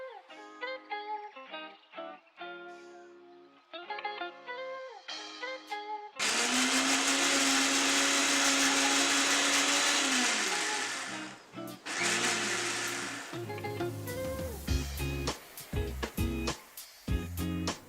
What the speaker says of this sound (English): I'll add 4 to 5 tablespoons of oil and I'll blend it again for at least 5 to 10 seconds